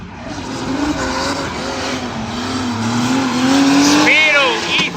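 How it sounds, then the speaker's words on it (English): A BMW E30 drift car slides through the zones at a drift championship practice round, engine droning and tires squealing before it spins out, with a commentator talking over it. "Spiro, E30. Through zone 3, could be a lot deeper. Zone 4 the same, slows down for zone 5 but goes into a spin"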